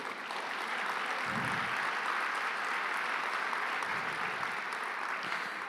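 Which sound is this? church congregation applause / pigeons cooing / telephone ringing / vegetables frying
church congregation applause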